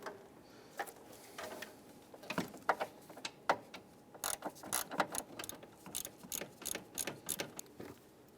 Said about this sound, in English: Just go ahead and loosen the nut on the other AC line here.